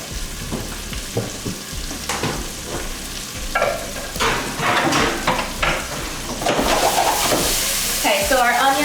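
Onions and sausage sizzling in a pan for gravy, steady frying crackle with spoon stirring and scraping strokes against the pan, close and fairly loud, while someone talks over the cooking.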